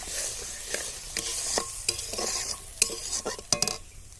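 Spice paste with ground coconut is stirred and fried in a pan: sharp spatula scrapes and knocks come in an uneven rhythm over a light sizzle, close and with no voices.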